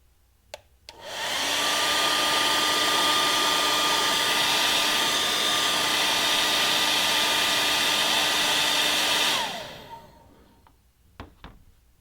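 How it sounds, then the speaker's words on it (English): A heat gun or hairdryer warms a surface while bonding PTFE, switching on with a click and blowing in one loud, steady whine for about eight seconds before cutting off, followed by a few faint knocks. "we can use our heat gun or our hairdryer to warm the surface"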